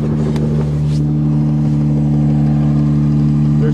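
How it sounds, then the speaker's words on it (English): Engine of a vehicle with no hood, buried under a pile of snow on a farm, runs steadily at idle with a loud, constant low hum and no break throughout. "Actually a motor running under that pile of snow with no hood."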